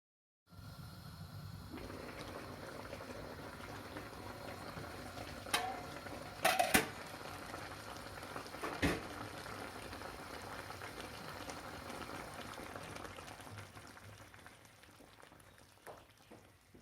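A pot of stuffed dolma (peppers, vine leaves or zucchini) boils steadily on a stovetop burner, a continuous bubbling hiss broken by a couple of brief metallic clinks near the middle.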